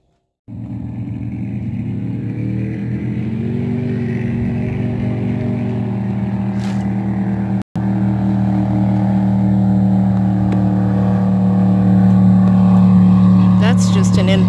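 A fast inboard-outboard powerboat drones past on open water, its engine hum loud and sustained, building slightly in intensity toward the end.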